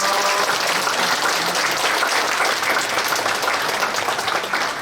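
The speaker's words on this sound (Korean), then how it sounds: "다 같이 감사와 영광의 박수 한번 올려드릴까요?" Sustained applause from a large congregation inside a church, steady and dense for several seconds with no voices standing out.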